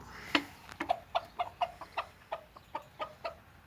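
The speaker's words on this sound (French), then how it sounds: "La poule elle fait que de glousser" A broody Pekin bantam hen clucks steadily in a series of short, evenly spaced clucks, close by, with no voices.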